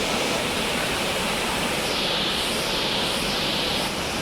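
Durgapadu Waterfalls pour through a jungle in Andhra, a steady, dense roar of falling water filling the whole stretch without a break, close and loud, with no voices.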